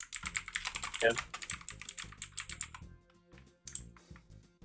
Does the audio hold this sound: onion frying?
no